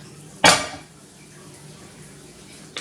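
A frying pan used for a beef and cabbage stir fry is set down with one sharp metallic clatter, then quiet kitchen ambience and a faint clink at the end.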